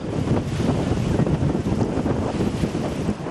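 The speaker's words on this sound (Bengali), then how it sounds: "বছরের প্রায় সাত মাসেই এমন আগ্রাসী রূপে থাকে খরস্রোতা পায়রা" Rough, fast-flowing water of the Payra river, a fierce tidal current, heard as a steady dense rush of water and wind buffeting close to the microphone, broad and unbroken with no voices.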